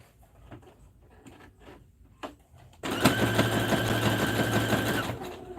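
A sewing machine zigzag-stitching a floral appliqué onto a sweatshirt: a few soft handling taps, then the motor starts and runs loud and steady with a rapid needle rhythm for a couple of seconds before stopping.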